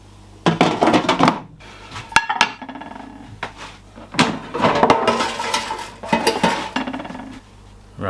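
Plates and cutlery clink and clatter while air-fried fish and chips are served up, with bursts of ceramic knocks and metal scrapes in several close, busy clusters separated by brief pauses.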